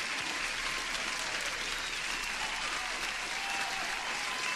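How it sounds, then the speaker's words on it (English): A steady, even crowd applause sound plays faintly and continuously with no breaks, hissy and distant, likely a canned effect on a live day-trading stream. "At least one applause."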